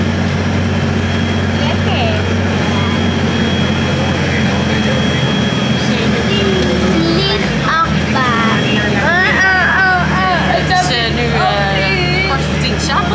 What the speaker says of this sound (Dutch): we zitten in de bus onderweg naar de stad